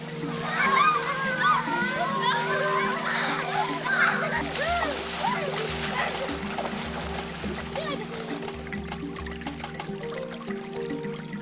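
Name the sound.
children splashing while bathing in brown river water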